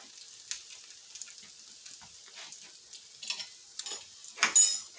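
Ground beef omelettes, Filipino tortang giniling, sizzle in a pan holding three at a time, with a soft steady crackle and a few louder spits and scraping sounds as they are turned, without talk.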